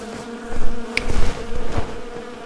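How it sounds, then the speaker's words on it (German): Bees from a beehive carried along in the video game REKA, a loud, steady insect buzz with a few brief clicks and thumps underneath. "Warum hast du den Bienenstock mitgenommen?"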